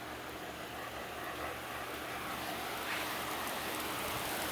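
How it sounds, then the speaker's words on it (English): Storm rain arrives outdoors near a garage, a faint, steady broadband hiss of falling rain and wind with a slight swell toward the end, no voices present. "Rain's here."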